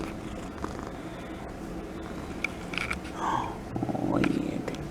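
A house cat purrs close by, a low rumbling texture under soft, cooing human speech and occasional rustling.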